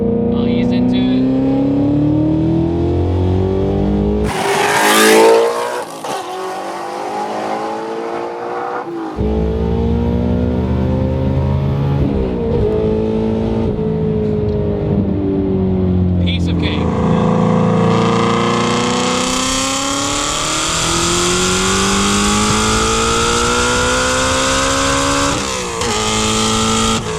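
A 1300 hp twin-turbo Shelby GT350 in normal mode accelerates hard through the gears, engine pitch climbing in long sweeps with shift breaks between them, loud and close inside the car, with a short burst of voices partway through.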